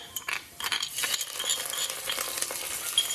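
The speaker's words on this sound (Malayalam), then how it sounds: "അതിലേക്ക് നമ്മൾ എടുത്ത് വെച്ചിരിക്കുന്ന ജിഞ്ചർ ഗാർലിക് പേസ്റ്റ് ഞാൻ ഇട്ട് കൊടുക്കുകയാണ്" Ginger garlic paste sizzles in a hot pan while being stirred for a restaurant-style Gobi Manchurian, with close crackling frying, scraping and occasional utensil clinks throughout.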